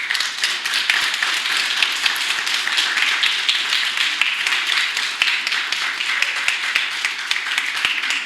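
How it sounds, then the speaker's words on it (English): A crowd at a Transgender Day of Visibility 2022 gathering claps steadily and loudly, a dense, sustained wash of many hands with occasional sharper individual claps standing out, continuing without a break. "Keep clapping, keep clapping."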